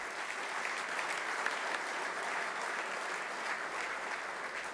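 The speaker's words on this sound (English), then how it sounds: "Give yourselves an incredible round of applause because you deserve it." A large audience applauding at the Missouri Athletic Club Hermann Trophy 2022 event, dense continuous clapping at an even level throughout, with no voices standing out.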